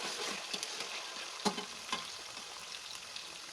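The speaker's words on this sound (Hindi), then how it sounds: "प्याज को ब्राउन नहीं करेंगे, बस 1-2 मिनट तक भून लेंगे।" Onions sautéing in a pan for kadhi pakora, a quiet steady sizzle broken by a few spoon scrapes and taps, with no talking.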